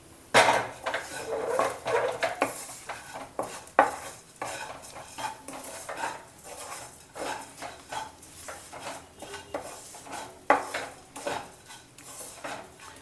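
Bitter gourd gojju being stirred in a pan: steady scraping and clinking of a spoon against metal, with a faint sizzle underneath, going on continuously and close by with no talking.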